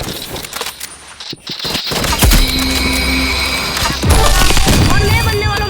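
Rapid automatic gunfire and sharp shots crackle through a shooting video game match, loud and close, with bursts continuing to the end and a voice talking faintly beneath.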